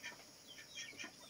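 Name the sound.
chickens clucking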